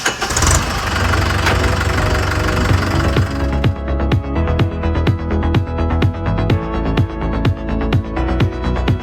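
A tractor engine chugs loud and close, its rough start settling into a slow, regular knocking beat of evenly spaced thumps.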